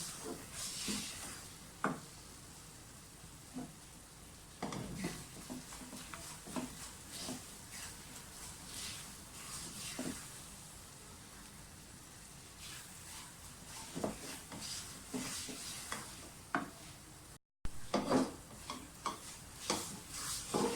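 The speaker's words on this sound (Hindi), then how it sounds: "बस अब ये थोड़ा सा रह गया, 2-3 मिनट बस इसको और भूनने की ज़रूरत है।" Semolina halwa is stirred and roasted in a pan, giving soft scraping strokes and a quiet sizzle that repeat irregularly at close range, with no talking.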